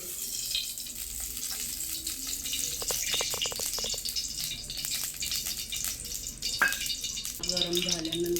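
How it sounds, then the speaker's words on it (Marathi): Oil poured into a preheated kadhai for a Marathi kantoli recipe sizzles with a steady, close hiss and scattered crackles, with a faint voice briefly toward the end. "कढई पण तापलेली आहे. तर आता आपण त्याच्यात तेल टाकूया"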